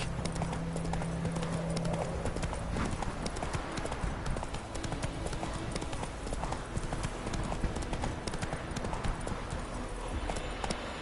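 Horse hooves clip-clop in a steady trotting rhythm while riding in The Witcher 3, close and continuous over game ambience, with a brief low tonal hum at the start.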